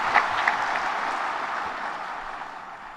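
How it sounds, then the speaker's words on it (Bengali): An audience applauds at a World Environment Day event in Bangladesh, a steady wash of many hands clapping together, moderately loud and even throughout, with a few sharper claps near the start. "আমরা সবাই মিলে আবার হাততালি দিয়ে জোরে হাততালি দিয়ে অভিনন্দন জানাচ্ছি"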